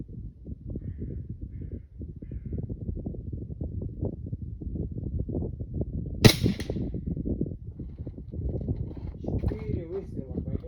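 A single sharp shot from a KRAL Puncher Maxi 3 6.35 mm PCP air rifle fired outdoors in snow and wind, heard once midway through steady talk.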